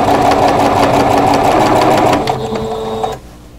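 A sewing machine straight-stitching bias binding onto a crochet hook wrap hums and whirs steadily up close, slowing briefly before cutting off just before the end.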